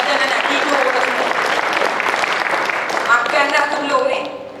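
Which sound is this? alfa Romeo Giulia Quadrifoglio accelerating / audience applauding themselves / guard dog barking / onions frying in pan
audience applauding themselves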